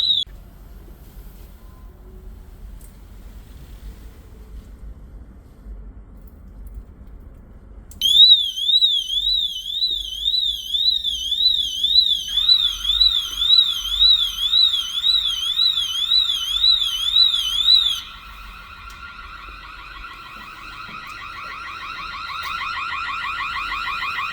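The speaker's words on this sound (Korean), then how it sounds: "알람이 울리고 스마트폰 앱에서도 물 감지 센서 침수가 감지되었습니다." A water leak sensor alarm sounds after a quiet start, beeping loudly in a fast warbling chirp that then shifts to a lower continuous trill until it is silenced, leaving a faint tone.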